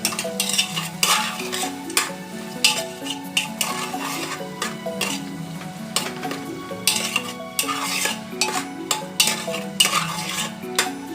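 Carrots and beans sautéed in a pan with brisk, rhythmic scraping and clinking strokes of a metal spoon over a light sizzle, loud and close, with no talking.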